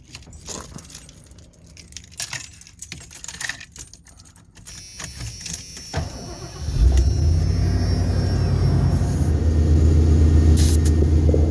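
A car engine starting after a stretch of clicks and rattles, then settling into a loud, steady low rumble that continues close by, with no talking.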